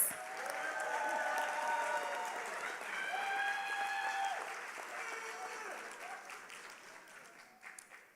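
Audience applause at a university Kente graduation ceremony, a steady wash of many hands clapping for about eight seconds, fading toward the end with scattered cheers and voices mixed in.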